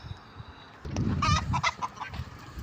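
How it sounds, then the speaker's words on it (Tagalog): Several gobbling, honking bird calls from a turkey on a small farm, fairly close, over faint outdoor background noise. "nandyan yung pabo"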